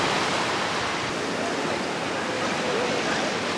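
Ocean waves at a beach make a steady, dense roar of surf that fills the whole stretch without pause or voices.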